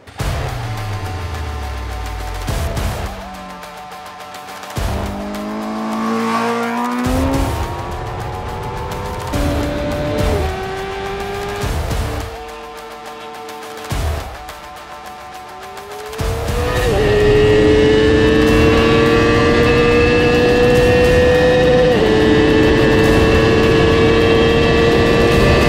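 A Honda CBR 1000RR-R Fireblade SP motorcycle accelerates hard through several gear changes, each rising engine howl cut by a brief drop, then holds a loud sustained high-rpm scream with heavy wind roar at top speed.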